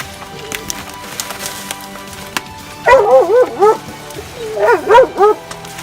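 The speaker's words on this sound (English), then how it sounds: "Yay, look at the little doggy." A small dog gives two bursts of high, wavering yips and whimpers, the first at mid-clip and the second near the end, each a cluster of rising and falling cries over a faint background hum.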